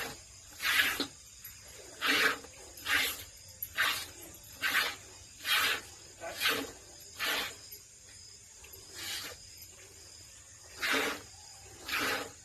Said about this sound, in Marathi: तर मला काय दोन हाताने दूध पिळा येत नाही बरं का मी एकाच हाताने धार काढत असते